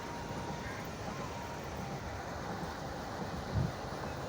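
Inside a passenger train travelling from Dhaka to Kishoreganj, a steady low rumble and airy hiss of the carriage in motion continue throughout, with one brief louder bump near the end. No voices.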